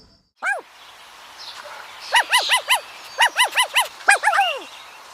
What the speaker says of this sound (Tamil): ஏதோ நாய்க்குட்டி கத்துற சவுண்ட் கேக்குதுல்ல?